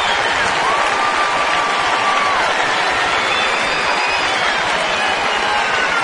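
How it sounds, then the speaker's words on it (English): Kansas City Royals fans at a major league baseball game applauding a Detroit Tigers player's first big league hit, a loud, dense and continuous wash of stadium clapping and crowd noise. "they gave him a round of applause"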